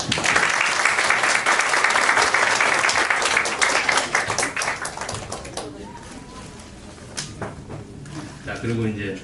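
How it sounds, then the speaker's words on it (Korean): Members of a Korean church congregation in Abu Dhabi, gathered at a Christmas event, give the accompanists a dense burst of applause that fades over several seconds before a voice speaks. "박수!"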